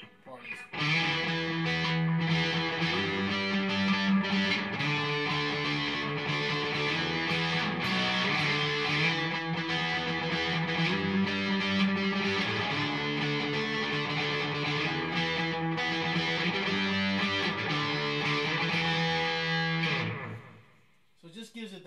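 Distorted electric guitar run through a TC Electronic Echobrain delay pedal, dense sustained chords held steadily for about twenty seconds, loud and close, then cutting off abruptly near the end.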